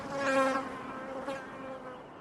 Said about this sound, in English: The bee burrows inside this sandbank, creating a chamber that it then stocks with pollen and nectar